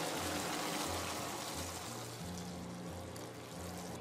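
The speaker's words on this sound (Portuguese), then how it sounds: "acrescente mais 1/2 xícara de chá de água" Half a cup of water poured into a pan of hot caramel, giving a steady, faint rushing sizzle with a low repeating hum beneath it, no voices.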